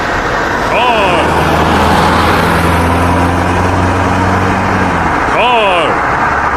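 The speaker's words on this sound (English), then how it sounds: "Car." Car passing on a road with engine hum and tire roar, joined by a sustained horn-like tone in the middle and brief squealing chirps near the start and end, steady and fairly loud.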